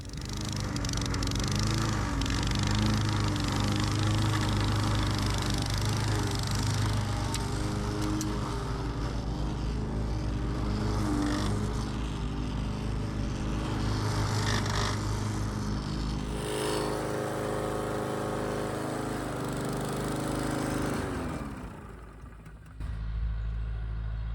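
A council tractor with a massive cutter mowing a sloping field, a steady loud engine drone with mower whine that holds for about twenty seconds, then drops away near the end.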